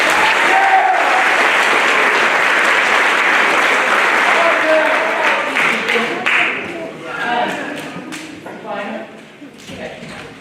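Crowd at a spring school band concert claps loudly and continuously, the applause thinning toward the end as a voice speaks over it.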